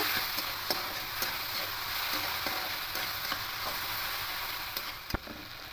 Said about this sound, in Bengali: এবার একটু পেস্ট করা সর্ষে আর রসুন পেস্টটা দিয়ে দেবো নিয়ে সামান্য একটু নাড়াচাড়া করে নেব